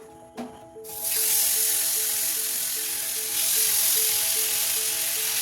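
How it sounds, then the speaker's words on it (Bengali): Marinated chicken pieces drop one by one into hot melted fat in a pan, setting off a loud, steady sizzle that swells after a brief clatter and holds with no voices. "এবারে আমি এই ম্যারিনেট করা চিকেনটা এক পিস করে দিয়ে দেবো ওখানে।"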